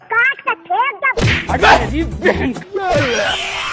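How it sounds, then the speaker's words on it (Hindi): A chaotic animal scuffle with barking, yowling cries and thumping impacts, loud and close, layered with cartoonish effects. "तभी कुत्ता और बिल्ली आपस में मार कुटैया करने लगे।"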